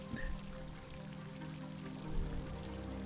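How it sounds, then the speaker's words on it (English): Running water like a fountain in the Nancy Drew game Mystery of the Seven Keys, a steady hissing wash that carries on without a break for the whole stretch, moderately loud with no voices over it. "It sounds like a fountain, but I don't know where the water is running because I can hear it"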